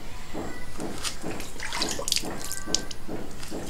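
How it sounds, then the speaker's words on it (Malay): Water run over a Brembo brake bleeder screw during brake bleeding, a steady pouring and splashing stream with light drips and clinks, close and fairly loud, no talking. "Basuh pakai air."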